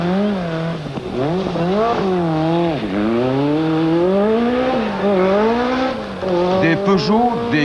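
Peugeot and Audi Quattro rally cars race at a 1986 World Rally Championship event in New Zealand, engines wailing and swooping in pitch as gears change, loud and close, with a commentator speaking over the roar.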